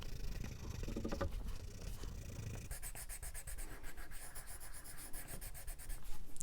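Colored pencil rubbing across paper in short, scratchy back-and-forth strokes, close up and faint, continuing steadily with a shift to lighter, quicker strokes partway through.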